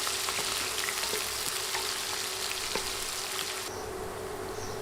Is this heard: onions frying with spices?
yes